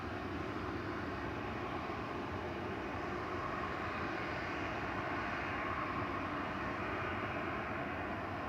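A Ryanair Boeing 737-800 from Barcelona arrives at Manchester Airport, its jet engines producing a distant, steady, fairly quiet roar that holds evenly from start to finish without speech.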